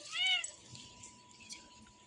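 A cat gives a loud, close meow at the start, with a male cat trailing a female in heat, followed by quieter sounds under someone talking.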